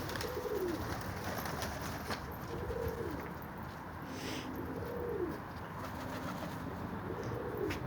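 A pigeon coos in a repeated soft rolling call, several phrases spaced a second or two apart over steady outdoor background noise, with no talk.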